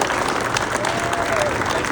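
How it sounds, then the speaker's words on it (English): Steady, dense applause from a crowd at a pickleball club ribbon cutting fills the whole stretch, loud and continuous without a break. "One more big round of applause for Ace."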